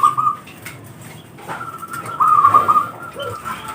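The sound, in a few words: zebra dove (perkutut) cooing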